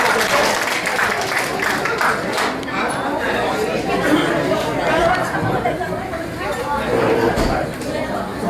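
An audience at an entertainment event in Iloilo claps steadily for about eight seconds, a continuous wash of applause mixed with crowd chatter and voices throughout.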